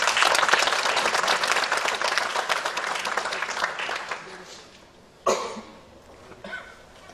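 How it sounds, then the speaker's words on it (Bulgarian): Concert audience applause for a municipal brass band's 50th anniversary, dense clapping that fades over about four seconds, followed by a sharp cough and faint throat clearing. "Аплодисменти."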